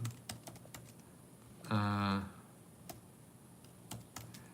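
Light clicking of computer keyboard keys as a zip code is typed, scattered soft taps across the clip, broken by a short louder buzzy tone in the middle.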